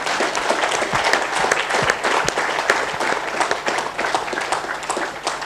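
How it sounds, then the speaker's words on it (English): An audience gives a panel a steady round of applause, dense, continuous clapping from many hands lasting several seconds without letting up. "I want to ask you for a big round of applause for our panel."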